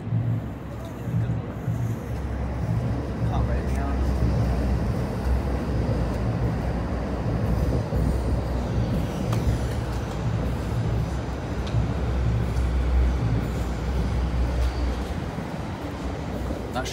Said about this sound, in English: A northbound Aberdeen train.